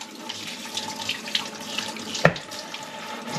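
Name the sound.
tap water running while washing meat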